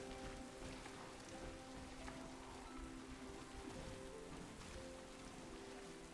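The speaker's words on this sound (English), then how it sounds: "this game is raining constantly" Steady rain falling in the Pokemon Violet video game, a constant dense patter of drops heard alone at an even level for the whole stretch, with no voices over it.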